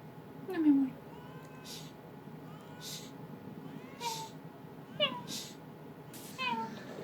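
A cat meows several times in short, rising and falling cries, fairly close, over a steady background hiss with soft scattered noises.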